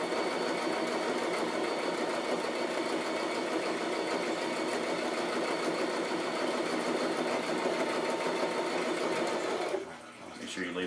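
A sewing machine runs steadily, stitching through layered fabric at the pocket of a handmade handbag, a continuous close whir that stops abruptly near the end.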